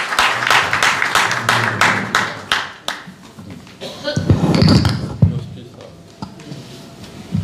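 Audience applause at a book inauguration event welcoming a speaker: a burst of rhythmic clapping for the first few seconds, fading into scattered claps, thumps and low murmuring voices.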